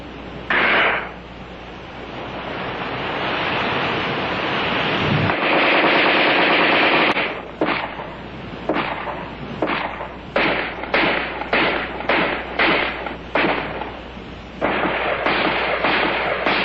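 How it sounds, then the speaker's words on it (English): An Armalite AR-10 rifle fired in a sub-zero cold-weather test, the shooter in heavy gloves with the winter trigger guard folded away. A long rapid burst runs first, followed by a string of sharp single or short shots. "Adverse condition in which the AR-10 excels is the sub-zero temperature test"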